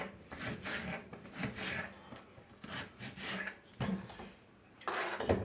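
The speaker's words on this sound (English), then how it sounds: "Just cut the potatoes up into small pieces." A knife cuts potatoes into small pieces on a board at home, giving repeated rough scraping and rubbing strokes in uneven bursts with short pauses, close and moderately quiet.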